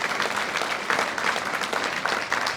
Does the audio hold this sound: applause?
yes